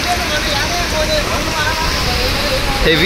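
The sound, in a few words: heavy rain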